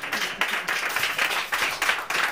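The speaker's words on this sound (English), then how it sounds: "Please, everyone, just give an applause to these beautiful women." An audience at a trans community talk claps for the speakers, with dense, continuous applause and a few louder bursts across the whole stretch.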